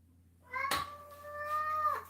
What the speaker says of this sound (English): Did you hear that meow?